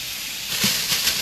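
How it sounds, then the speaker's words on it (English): Strips of bacon sizzle in a hot pan, a steady broadband hiss with a few louder crackling pops, heard close and alone with no talk. "Oh yeah, that's sizzle."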